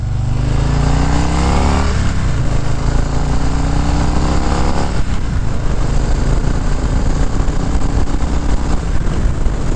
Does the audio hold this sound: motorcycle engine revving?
yes